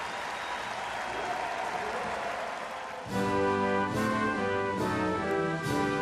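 Crowd noise fills an indoor velodrome at a track cycling World Cup in Glasgow as a team finishes, a steady roar that gives way to loud arena music or horns midway.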